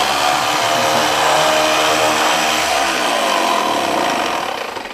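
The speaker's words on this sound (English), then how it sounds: "that, ladies and gentlemen, is how you sand a big board with a big sander" A large power sander grinds steadily across a big wooden board, a loud continuous rasping drone that holds for several seconds before easing off slightly at the end.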